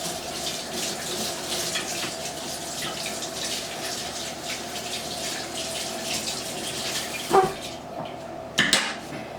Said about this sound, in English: let me just rinse the spoon off real quick